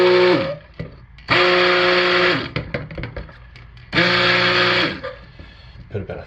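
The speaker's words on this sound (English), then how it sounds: "Give us a quick hit with the stick blender to finish emulsifying and mix that up." Stick blender mixing cold process soap batter in two loud whirring bursts of a few seconds each, with a falling whine as the motor spins down, separated by clatter and brief quiet.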